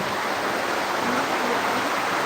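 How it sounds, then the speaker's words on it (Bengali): Heavy rain falling at night in Bangladesh, a loud, even, broadband rush that stays constant throughout, with no clear voices. "আমার এখানে বৃষ্টি পড়ে সব কিছু ভিজে গেছে"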